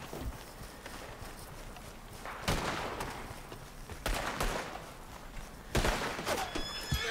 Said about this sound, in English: of course my horse is being shot at and they don't want me to get on it